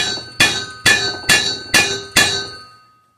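Hammer strikes on a seized air compressor pump, five sharp metallic taps at an even rhythm, each ringing briefly before the next, close and loud with no talking.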